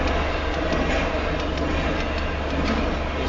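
Fast westbound Union Pacific Z freight train running at 65 mph west of Nevada, Iowa, a steady broadband roar of wheels and cars rushing past close by, continuous and loud with no talk.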